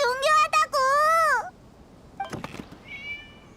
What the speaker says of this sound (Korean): 아, 고양이구나.